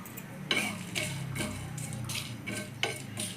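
Dried red chillies and coriander seeds are dry-roasted in a pan for a Bengali chicken dish, with a soft continuous sizzle broken by several sharp scraping stirs and clinks of a spoon against the pan.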